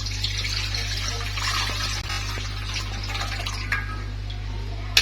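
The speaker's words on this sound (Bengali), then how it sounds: "এখন এই নারিকেলের পানিটা ছেঁকে দিয়ে দিব।" Coconut water is strained and poured into a pan as a soft, steady stream with a faint hiss, over a low, constant background hum.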